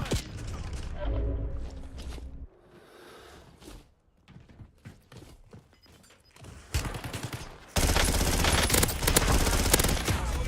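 Gunfire in the video game Warzone comes as bursts of rapid automatic fire and heavy shots, loud and dense, with quieter shuffling and clicks between, alongside some voice.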